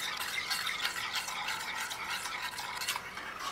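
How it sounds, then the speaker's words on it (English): Heavy cream being stirred into a warm liquid for butter chicken, a steady close scraping swirl of a utensil in a pot with faint clinks, continuous for a few seconds with no talking. "I'm gonna add cream to it, heavy cream. I'm just gonna stir it up."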